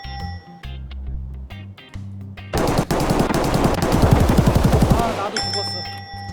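Automatic rifle fire in the game Escape from Tarkov: a loud, sustained burst of rapid shots lasting several seconds, with quieter game noise and brief electronic tones before and after.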